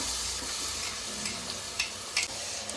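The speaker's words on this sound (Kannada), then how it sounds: "ಮಸಾಲೆ ಎಲ್ಲ ಚೆನ್ನಾಗಿ ಒಂದು 2 ನಿಮಿಷ ಎಣ್ಣೆ ಬಿಟ್ಕೊಳ್ಳೋವರೆಗೂ ಎಣ್ಣೆ ಫ್ರೈ ಮಾಡೋಣ" Ground masala paste fries in oil with a constant, close hissing sizzle, punctuated by a few brief spoon scrapes near the end.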